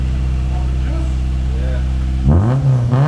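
A Honda Civic EG with a Spoon exhaust idles with a deep, steady drone, then revs sharply twice near the end, close and loud.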